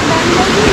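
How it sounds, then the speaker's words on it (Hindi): Himachal waterfall near Dalhousie, a dense, steady rush of falling water heard briefly and close. "ये वाटरफॉल के कुछ हल्के फुल्के नज़ारे आप देख सकते हैं"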